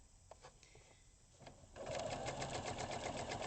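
A sewing machine stitches around a tied pocket, starting with a few soft clicks and handling noises, then running in a steady fast whirring chatter for the last half.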